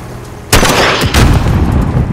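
An M82A3 sniper rifle fires explosive rounds in a video game, giving two loud, close, heavy blasts with booming, rumbling tails and no talk over them.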